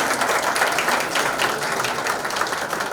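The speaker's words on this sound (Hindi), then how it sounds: "सॉन्ग अनवील करने से पहले ताली." Audience applause at a singer's birthday celebration before a new song is unveiled, a steady, dense wash of clapping from a crowd lasting the whole moment, fairly loud and unbroken.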